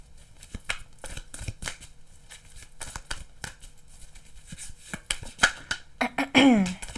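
Tarot cards riffle and slap together in a rapid, uneven patter of soft clicks, close by, ending with a brief higher-pitched flutter.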